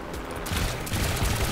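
Twin cannons on a small plane in the Trailmakers video game fire in rapid, continuous bursts, making a loud, chattering rattle layered over a low engine rumble, with no voices.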